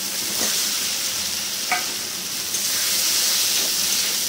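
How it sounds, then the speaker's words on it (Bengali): Taro pieces sauté with spice paste in a pan for a vegetarian curry, a continuous close sizzle and hiss with occasional scraping stirs, no voices. "একটু ভালো করে কষিয়ে দেবো মশলার সঙ্গে"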